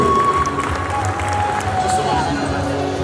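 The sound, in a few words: audience applause for the honoured guest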